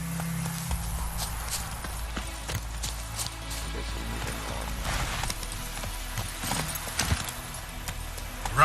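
A horse's hooves clip-clop at a gallop in the video game The Witcher 3, a quick, steady rhythm of hoofbeats over a low ambient background.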